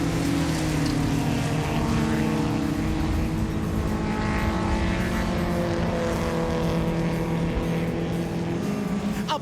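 Blue Datsun racing cars go side by side into a corner on a hill section of a circuit, their engines a loud, continuous roar with no break.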